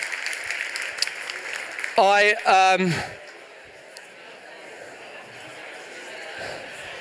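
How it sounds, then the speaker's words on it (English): Brief audience applause at a talk, which fades out after a couple of seconds. A loud sung or spoken phrase cuts over the clapping before the room goes quiet. "A round of applause."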